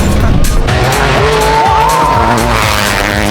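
A rally car roars past close by at high speed on a gravel stage of the Rallye Terre des Causses 2025, its engine loud and strained, with a brief squeal of tires as it goes.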